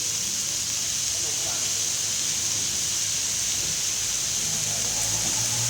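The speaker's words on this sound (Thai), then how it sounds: "เติมน้ำแล้วก็รอให้มันเดือดนะครับ" Water added to fried tamarind chili paste heats in a pan, giving a steady, even hiss like simmering steam that runs unbroken throughout.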